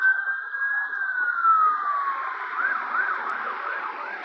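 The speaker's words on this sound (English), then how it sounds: "Not the siren that you guys hear in the background" An emergency siren sounds in the distance beyond an abandoned retail store in Hoover, Alabama: a long falling wail that shifts into rapid rising-and-falling cycles, clear and steady over a quiet background.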